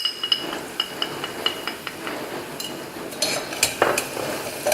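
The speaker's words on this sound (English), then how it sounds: "we'll fry this a little while to make it fragrant" Onions with turmeric, chili and coriander powder frying in a pan, a steady close sizzle broken by bright clinks and scrapes of a utensil stirring against the pan.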